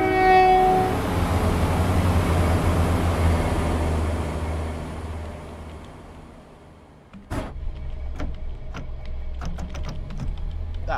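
A Class 171 train in Train Sim World 4 roars past close by, horn blaring at the start, its rumble fading away before sharp clickety-clack wheel beats over rail joints follow.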